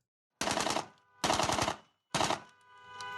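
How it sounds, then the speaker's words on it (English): AK rifle fired into the air at a wedding celebration: three loud, close bursts of rapid automatic gunfire separated by short pauses, each trailing into echo. "He came in flying in a vehicle, hopped out with an AK, and was shooting in the air."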